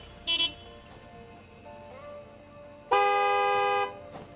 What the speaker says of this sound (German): Dieses Gehupe, ne?